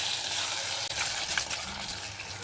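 Boiled, chopped taro (chamagadda) pieces fry in hot oil for a Telangana-style pulusu, giving a steady bright sizzle with faint crackles throughout and no talking.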